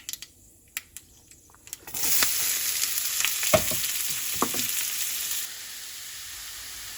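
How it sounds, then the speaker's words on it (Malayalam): Onion, garlic and curry leaves frying in a pan as mixed vegetables and coconut go in: a few light clinks, then a loud steady sizzle that holds for several seconds with stirring scrapes, easing off toward the end. "ഈ ഉള്ളി, വെളുത്തുള്ളി, കറിവേപ്പില ഇട്ട് ഒന്ന് മൂപ്പിച്ചതിന് ശേഷം മിക്സഡ് വെജിറ്റബിളും തേങ്ങയും കൂടി ഇട്ട് കൊടുക്കാം."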